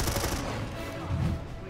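A teammate fires a gun in a free-to-play sci-fi shooter: a short burst of rapid automatic shots that carries through and fades under steady game ambience.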